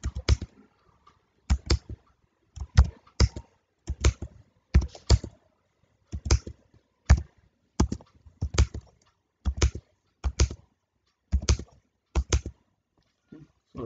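Data entered on a computer keyboard in short bursts of crisp, close key taps separated by brief pauses, with a quiet background and no talking.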